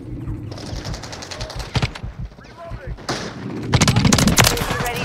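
Rapid automatic gunfire and bursts of shots in Modern Warfare 3 multiplayer, loud and close, with explosive thuds, mixed with game voice callouts over the shooting.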